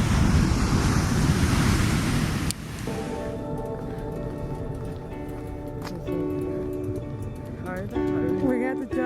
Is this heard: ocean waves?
yes